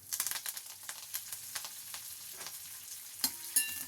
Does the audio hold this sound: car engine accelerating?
no